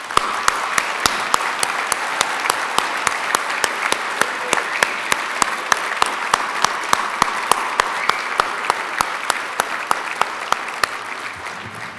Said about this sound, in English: Can we have one final round of applause for the recently conferred graduates?